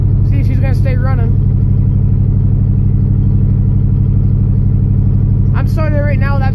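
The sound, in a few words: 1982 Chevy Custom Deluxe engine cold start, running without choke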